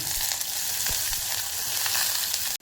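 Onion sautéing in hot oil in a pan with mustard seeds, cumin and green chilli, for a Marathi toor dal amti and capsicum dish, giving a steady close sizzle with faint stirring scrapes, no voices, cut short by a brief dropout at the end.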